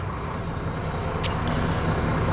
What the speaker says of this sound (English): Let's just start it up and give you a sound of the engine